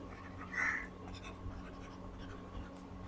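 A pen scratches notes onto paper in short, faint strokes, with quiet room hum underneath and no voices.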